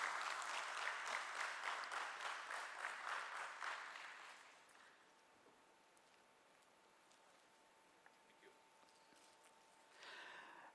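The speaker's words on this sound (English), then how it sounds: "Let's hear a nice round of applause, ladies and gentlemen." A round of applause breaks out at the stock listing ceremony of Precision Camshafts Limited. Brisk, dense clapping lasts about four seconds, then fades into a quiet room with a faint hum.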